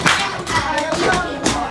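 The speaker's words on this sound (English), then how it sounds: "Clap your hands, stomp your feet." Children in an ESL circle-time game clap their hands and stomp their feet, a loud burst of rhythmic claps and thuds rising and falling close by.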